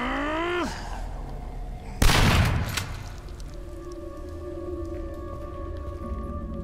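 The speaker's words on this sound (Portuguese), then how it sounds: "Poxa, deu um tiro, rapaz." A sharp, loud gunshot in the video game Daymare: 1998 bursts out mid-clip and echoes briefly, followed by sustained electronic tones.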